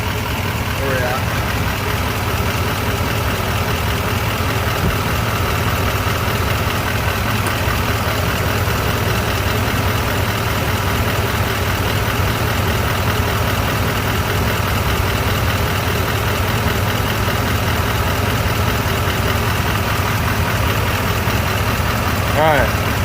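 A GM Sierra/Silverado HD pickup engine idles warm at operating temperature, a steady close low rumble that runs unbroken throughout, with shop noise and no clear voices over it.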